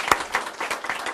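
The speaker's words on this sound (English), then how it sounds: "Can we give her another round of applause?" A short stretch of audience applause, several hands clapping together briefly.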